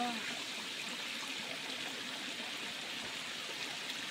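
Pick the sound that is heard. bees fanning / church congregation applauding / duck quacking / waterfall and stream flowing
waterfall and stream flowing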